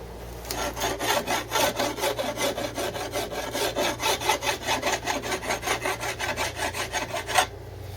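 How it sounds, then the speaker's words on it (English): Light file rasping over the sinew backing of an Osage orange bow, steady rhythmic back-and-forth strokes at roughly three per second, close and even, with no talking. "I'm starting with just a real light file, nothing heavy"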